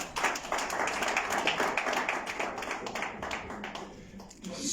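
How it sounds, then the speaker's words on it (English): Audience at an opposition press conference applauding two vice presidential candidates, a lively burst of many hands clapping that thins out near the end. "Please a round of applause for them."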